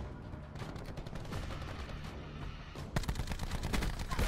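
Rapid gunfire in the video game Call of Duty Black Ops 4, a dense stream of sharp shots through the first three seconds, then a louder, heavier burst of fire to the end, with no talk.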